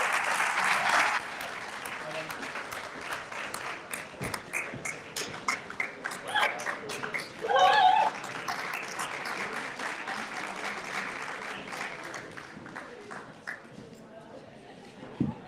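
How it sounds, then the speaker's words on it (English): A graduation ceremony audience applauds for a graduate, moderate clapping that swells briefly, then continues at a lower level and thins out near the end, with a few louder nearby claps. "Big applause for Vichy."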